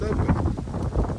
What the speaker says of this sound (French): Ah, le vent!